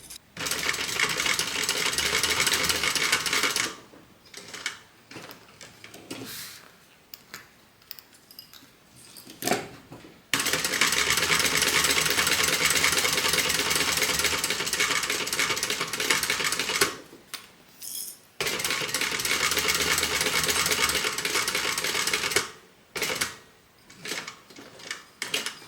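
A sewing machine top stitches the flap of a Calvin Klein–inspired asymmetrical handbag, running in long steady rattling bursts, close and loud, separated by pauses with small handling clicks and quiet gaps.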